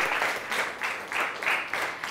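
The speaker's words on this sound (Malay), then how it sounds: "Kita beri tepukan kepada Wan Lin" A class of students gives a round of applause for a classmate during a history lesson, the clapping steady and moderately loud with soft rhythmic swells over about two seconds.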